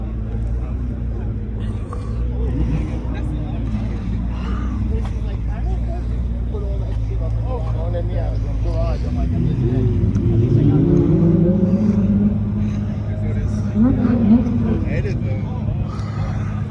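Cars pass on a cold outdoor street, including a GT, with steady engine and road rumble and a louder vehicle sweeping by near the middle; people talk over the traffic.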